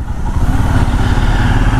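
A new Royal Enfield Himalayan BS6 motorcycle being ridden gives a close, loud, steady engine thrum with road and wind noise and no talking.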